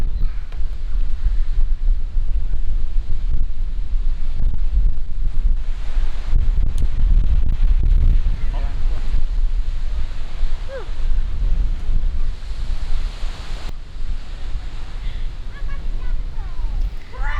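Wind and small waves at Pantai Pasir Putih, a white-sand beach on Sabang facing the tip of Sumatra, with a steady low roar of gusting wind buffeting the microphone and surf washing continuously throughout.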